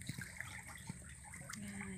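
River water flowing in a steady, quiet rush, faint and continuous throughout with no talking.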